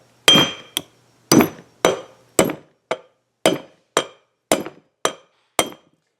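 A hammer taps a wheel shaft into a Classic 335 pedestal: about eleven sharp metallic strikes in a steady, slightly uneven rhythm, each ringing briefly, close and clear with no talking.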